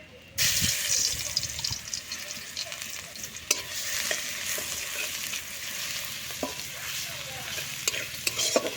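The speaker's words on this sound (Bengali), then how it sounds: "প্রথমে কড়াই তেল দিয়েছি এবার এখানে দেব রসুন কুচি" Chopped garlic fries in hot oil in a wok, a steady close sizzle with scraping stirs and occasional clinks, starting abruptly after a quiet moment and holding even throughout.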